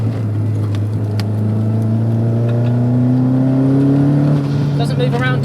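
A turbocharged 525 bhp Renault Megane 225 revs hard under boost, its pitch climbing steadily as it accelerates, loud and close from inside the cabin with steady road roar.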